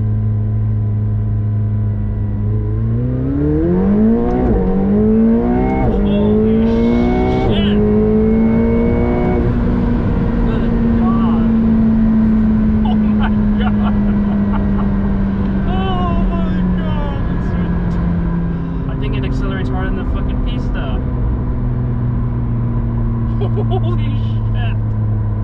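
McLaren 720S accelerating hard and revving up through the gears, the engine note climbing steeply then holding a high, loud drone, with someone talking over it throughout.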